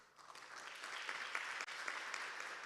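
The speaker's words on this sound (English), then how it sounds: "Also applause for her." Applause for a panelist at a formal freedom-of-expression declaration event, a steady, fairly quiet wash of many hands clapping that holds evenly for the whole stretch.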